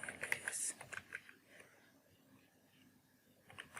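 Quiet computer keyboard typing as a Google search is entered, a quick cluster of soft key clicks followed by sparser taps and a faint murmur.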